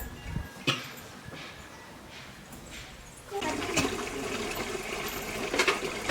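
Dishes being scrubbed and rinsed with soap and water at a home sink, a steady wash of running water and clattering that grows louder and denser partway through, with occasional knocks.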